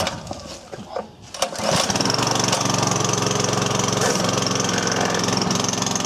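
Small engine on a restored machine, with choke on, cranked after a few knocks and clatters, then catching and running on with a loud, steady but rough throbbing close by, brief voices at the start.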